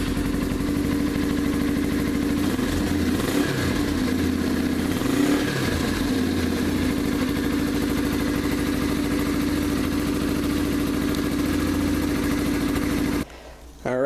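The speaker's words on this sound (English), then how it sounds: "a quick sound clip of what the stock exhaust sounds like with the baffle in" A Yamaha TTR 230 motorcycle engine with its stock exhaust and baffle fitted idles and revs with a steady throbbing exhaust note, blipping a few times before cutting out at the end.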